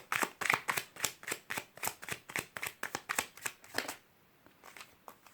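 Tarot cards being riffled and shuffled by hand in rapid, rhythmic bursts, close and crisp, then slowing to a few scattered flicks at the end, with no talking.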